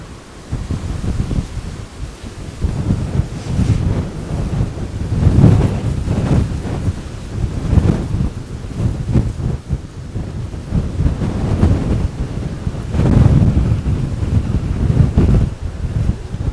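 Strong gusty wind blowing across a microphone at Miami Beach ahead of Hurricane Milton, loud buffeting roars that surge and ease in waves, with a constant windy rush underneath.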